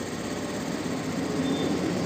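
A Hero Destini 125 scooter engine idles steadily after its RPM screw is adjusted, giving a close, even hum with a slight vibrating buzz and no talk.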